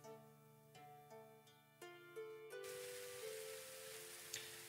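Steady rain begins falling in the medieval colony-building game Going Medieval, a dense hiss that rises suddenly about halfway through and covers the soft tonal game music heard at the start.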